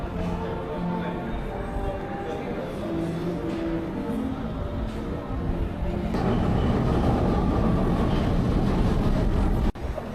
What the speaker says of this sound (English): Confusion here is real on the Vienna metro.